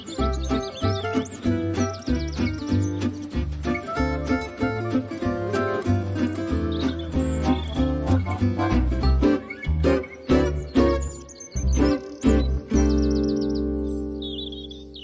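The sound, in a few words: birds chirping in garden tree feasting on aphids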